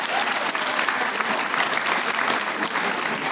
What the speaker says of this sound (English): Give Isaiah a round of applause.